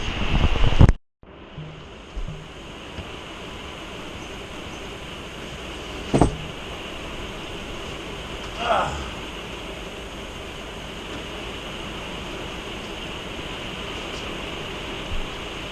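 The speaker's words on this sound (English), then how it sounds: "The wind has really picked up." Strong tornado-storm wind buffets the outside of an RV in a steady, broad roar, with a few brief thumps and rattles standing out from the constant rush.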